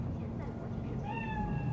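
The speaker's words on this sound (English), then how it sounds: "Chill, just a cat." A cat meows in the video game Cyberpunk 2077, a short rising call near the end over a steady murmur of background game ambience.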